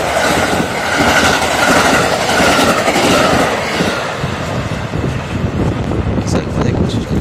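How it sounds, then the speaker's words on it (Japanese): The Wide View Hida 9 express train passes a station on a clear day with a loud, steady rushing roar of wheels and wind, close by, slowly easing toward the end. "ワイドビュー飛騨9号の、通過風景を見ながら、エンディングにします。"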